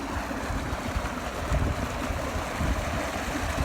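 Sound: water gushing from the farm motor into the field channel

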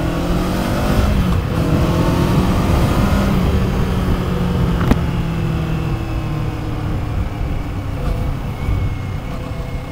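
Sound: motorcycle engine and exhaust while riding

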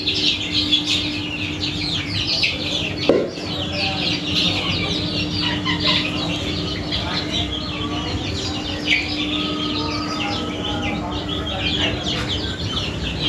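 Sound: chicken chicks clucking

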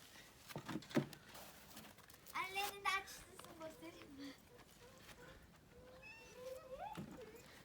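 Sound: cats meowing

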